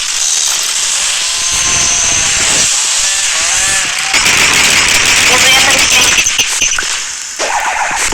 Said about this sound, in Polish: To jest piła motorowa.